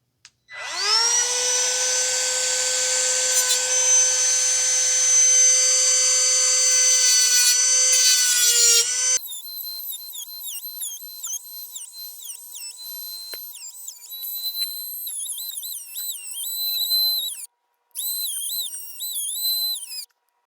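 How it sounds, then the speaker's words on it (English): A small Milwaukee die grinder with a cut-off wheel scores a Toyota wheel bearing, giving a loud, steady high-pitched whine for about nine seconds before it cuts off. Fainter, wavering tones follow. "I'm just using a Milwaukee. This is a very small die grinder here, a cut-off wheel."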